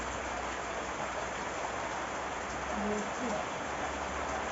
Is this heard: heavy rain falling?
yes